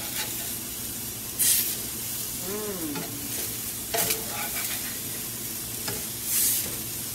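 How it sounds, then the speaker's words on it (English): Tuna sizzles steadily in a hot pan, a continuous crackling hiss, with a couple of brief clinks of a utensil stirring. "You want to hear the sizzle."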